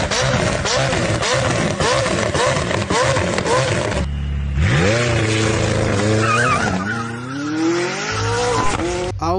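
A McLaren P1 engine roars and revs upward in rising sweeps, with tires squealing as it accelerates hard, loud and close.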